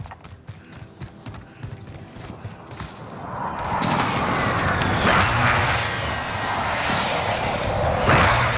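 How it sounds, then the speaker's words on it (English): A precision airstrike jet in Call of Duty: Modern Warfare roars in after about three seconds of quieter battlefield rumble, swelling into a loud, sustained broadband engine wash that holds to the end. "precision airstrike"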